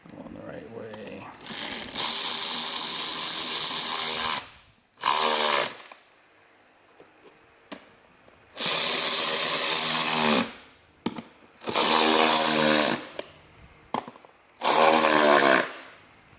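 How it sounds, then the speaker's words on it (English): A power ratchet snugs bolts on a CFMoto, with several loud buzzing bursts of a second or two each, separated by quiet gaps, recorded close up. "You want to ratchet them down to just snug them up."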